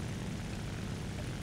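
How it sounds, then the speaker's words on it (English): A propeller-driven Il-2M Sturmovik ground attack plane flies in the War Thunder video game, its engine a steady, dense, loud drone that holds unchanged throughout. "just out here flying the Il-2M Sturmovik"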